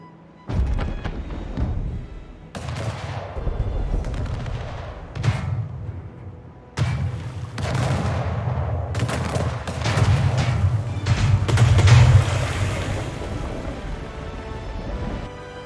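Ship cannons fire in naval combat in the video game Anno 1800, a rapid sequence of booming shots and rolling salvos that overlap into a continuous barrage with no voices.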